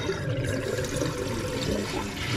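Water runs and gurgles steadily into a toilet tank, a continuous close rushing and bubbling fill with no voices.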